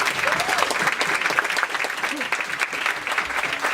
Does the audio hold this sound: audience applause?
yes